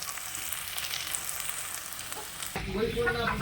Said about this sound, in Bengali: এবার মাছগুলো আমি এর মধ্যে দিয়ে দেবো তারপরে মশলা দেবো